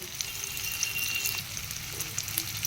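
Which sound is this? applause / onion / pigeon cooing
onion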